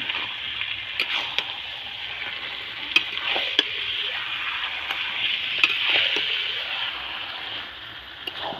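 Mutton curry sizzles hard in a pan while being stirred and fried, a loud continuous frying hiss with sharp intermittent clicks of the spoon against the metal.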